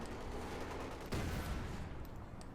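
Dense gunfire from a Company of Heroes 2 battle, a steady stream of rapid machine-gun bursts and thuds with a heavier blast near the middle, loud and unbroken, no talk.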